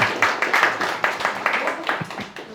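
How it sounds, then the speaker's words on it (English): Light, scattered clapping from a small group, with individual claps audible in an uneven rhythm, fairly quiet. "A big round of applause, please."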